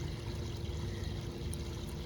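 Pool water dribbles and pours into a chlorine and pH test kit vial, making a steady, close trickling wash that continues without a break, with no talk over it.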